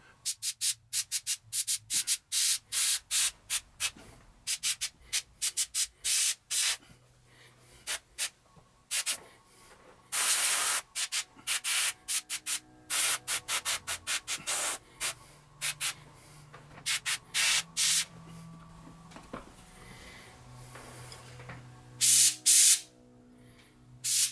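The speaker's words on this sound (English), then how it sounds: "I'm just using my finger to get the overspray off of the edges when there's too much there." Fingertip rubbing excess spray paint off the edges of a Cthulhu: Death May Die miniature, giving close, dry, scratchy strokes in quick repeated bursts with brief pauses between.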